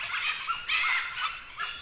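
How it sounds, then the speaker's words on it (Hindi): Wild dogs in the bush, fighting with intruding dogs of another pack, giving bursts of high yelps, whines and chattering cries that rise and fall in quick overlapping calls, loud and close. "ये घुसपैठिए कुत्ते हैं"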